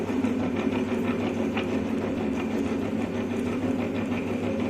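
A milling machine cuts the teeth of a spur gear, giving a steady, loud mechanical hum with a continuous low drone and even grinding that runs unbroken from start to finish.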